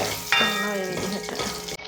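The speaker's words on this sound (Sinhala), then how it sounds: "අබ පුපුරනවනේ" Mustard seeds pop and sizzle in hot coconut oil while dhal curry is being made, a dense crackling fry heard close up for under two seconds, with no voices.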